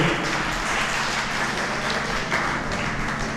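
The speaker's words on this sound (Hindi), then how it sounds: "एक बार जोरदार उनके सम्मान में तालियां बजाइए" Steady, dense applause from an audience at a Hindi poetry gathering in Bhiwani, sustained at an even loudness throughout with no talking over it.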